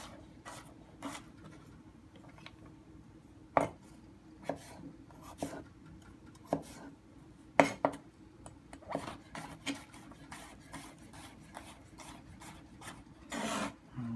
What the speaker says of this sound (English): I'm going to cut it into very, very small pieces.